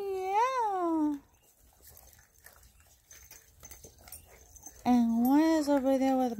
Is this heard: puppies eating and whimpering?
yes